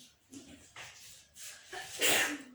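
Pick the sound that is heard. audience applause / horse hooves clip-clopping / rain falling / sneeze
sneeze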